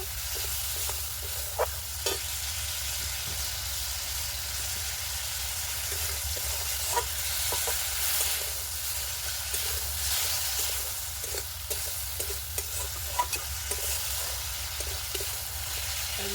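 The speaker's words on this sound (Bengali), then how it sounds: "মশলাটার সাথে মাছটাকে কষিয়ে নেব" Magur fish cooks down with spice paste in a pan, a little water just added, giving a continuous sizzle with frequent stirring scrapes and clicks for about sixteen seconds. No one speaks.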